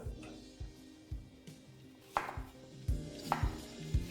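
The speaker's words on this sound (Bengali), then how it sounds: "200 গ্রাম পেঁয়াজ, যেটাকে আমি এরকম রাফলি ছোটো ছোটো করে কেটে নেব" A knife chops onions roughly on a cutting board in a kitchen, giving a series of distinct, fairly close thuds at an uneven pace, with a few crisper strikes.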